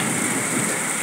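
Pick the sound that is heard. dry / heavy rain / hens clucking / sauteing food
heavy rain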